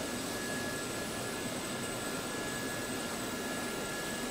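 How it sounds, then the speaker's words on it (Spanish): Gazelle helicopter turbine engine running during practice and instruction in Normandy, a steady continuous whine with high tonal lines over broadband roar, even and unbroken throughout, no talking. "Estamos aquí con el helicóptero."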